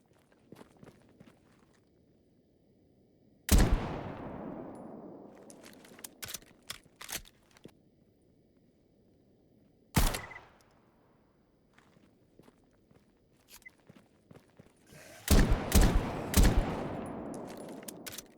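Desert Eagle pistol fire in S.T.A.L.K.E.R. GAMMA: single loud, sharp shots with long ringing decay, spaced apart, then a quick burst of several shots near the end, footsteps and quiet ambience between.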